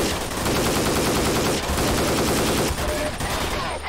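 Shotgun gunfire in a Half-Life 2 mod shooter, a dense, loud, continuous barrage of rapid blasts filling the whole stretch, close and harsh with no pauses.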